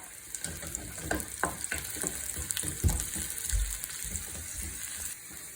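Shallots sauté in oil for Angamaly mango curry, crackling and sizzling close up with intermittent stirring scrapes and pops.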